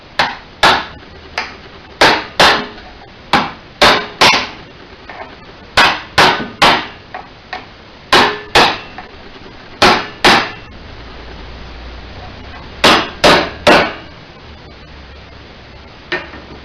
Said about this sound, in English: as we drive the chisel in there,